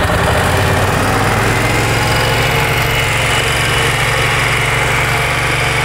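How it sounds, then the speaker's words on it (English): A cold, carbureted Triumph America motorcycle engine runs at a fast, steady idle with choke on, a loud continuous throbbing drone filling the whole stretch. "I'm going to need to pull in the clutch to crank it"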